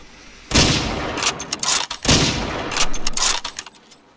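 Heavy gunfire rings out in the World War II shooter Hidden & Dangerous 2 during an Arctic convoy co-op mission, with loud close rifle and automatic bursts crackling almost continuously with brief gaps between volleys.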